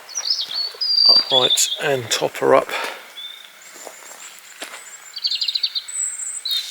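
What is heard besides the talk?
birds singing outdoors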